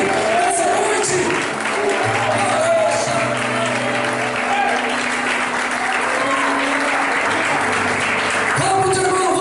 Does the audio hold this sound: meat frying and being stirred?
no